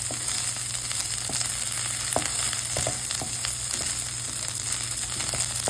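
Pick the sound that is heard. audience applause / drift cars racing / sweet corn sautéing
sweet corn sautéing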